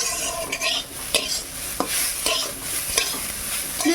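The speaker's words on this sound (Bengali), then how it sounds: "এখন আমি পায়েসটা রান্না করে নেই" Payesh, a rice pudding, cooks in a pot with soft scraping, stirring strokes and light clinks over a faint, steady sizzle; the strokes recur in an uneven rhythm, and no one talks.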